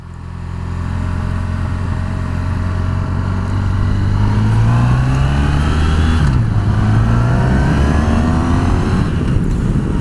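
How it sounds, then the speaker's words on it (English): A Honda VFR1200X motorcycle accelerates hard and smoothly, its engine note climbing steadily in pitch, dipping briefly at a gear change around six seconds, then rising again, loud and close throughout. "There's a rush of acceleration, but it's not just a punch."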